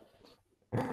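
A pet dog growls at home with a low, soft rumble, then lets out a sudden louder, closer growl near the end.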